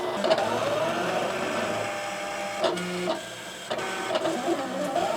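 A Silhouette Cameo electronic cutting machine cutting paper whirs and buzzes close by, its motor pitching up and down with sharp mechanical clicks as it moves back and forth.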